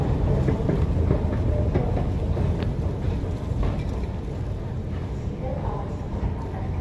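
Ambience on the Putrajaya platform of a Kuala Lumpur MRT station: a constant loud low rumble of trains and station noise with muffled voices mixed in, steady throughout.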